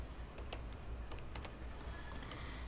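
Steady typing of PHP and MySQL code on a computer keyboard, with irregular soft key clicks over a faint constant background hum.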